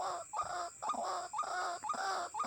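A ruak-ruak waterhen caught by the leg in a snare calls in repeated harsh, clucking bursts, about four rhythmic phrases in quick succession, close and fairly loud with no talk.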